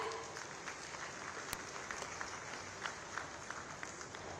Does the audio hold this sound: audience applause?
yes